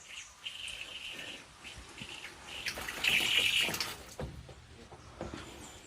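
A weak, thin trickle of water runs from a household tap in a continuous soft hiss, with faint bird chirps in the background.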